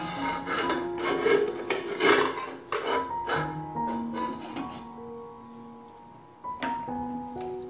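A knife chops peeled snake gourd on a board with irregular, close strokes, over faint tonal background sounds.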